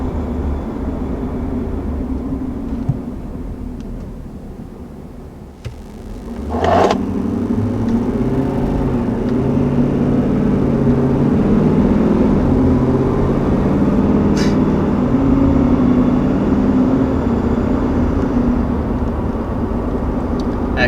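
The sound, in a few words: 2020 Ford F-250 Super Duty truck accelerating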